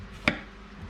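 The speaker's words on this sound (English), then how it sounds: "cut your spuds in slices" A single sharp knife chop through potato slices on a board while making a potato bake, one brief crisp cut standing out over faint room noise.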